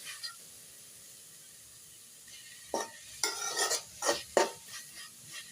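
Moringa flowers being stir-fried in a pan: a near-silent stretch gives way to a run of clattering spatula scrapes and soft sizzles, close and fairly quiet.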